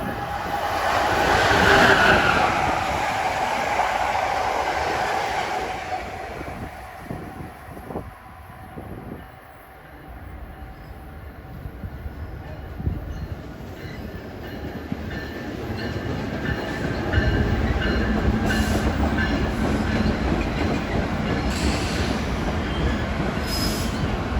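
The Crescent passenger train rumbles past on the Northeast Corridor at Linden, New Jersey, wheels clattering and squealing on the rails, the noise swelling and shifting as the cars roll by with no talking.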